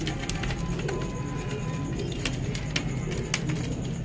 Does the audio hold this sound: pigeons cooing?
yes